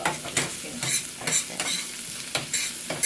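Food frying in oil in a pan for an Italian dish, a steady loud sizzle with regular bursts of stirring scrapes roughly every half second, close up and with no talk.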